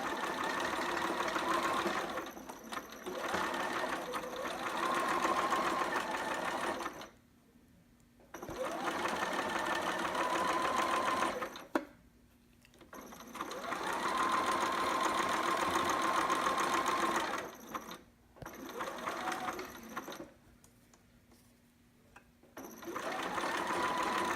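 A sewing machine back-stitches fabric for a two-piece sitter pattern, running in several close, steady bursts of stitching separated by short pauses.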